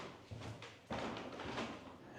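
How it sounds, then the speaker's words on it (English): Old wooden floorboards creak and thump underfoot inside the malt house of a 900-year-old hotel, a few quiet, close creaks and knocks spread across the moment. "Just listen to these creaky floors."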